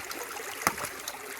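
Water from a homestead ram pump flows in a constant, hissing trickle, with one sharp splash or valve knock partway through and softer gurgles after, fairly close and with no speech.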